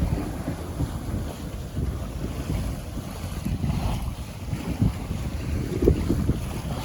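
Steady wind rushing past with water washing along a hull, a continuous low roar of a sailboat under genoa, staysail and main at about 8 knots, with no talking.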